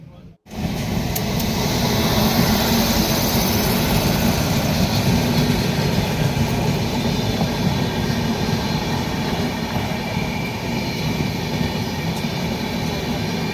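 Steady rumble and rattle of a passenger train moving along on a long journey, continuous and fairly loud throughout, with faint voices mixed into the carriage noise.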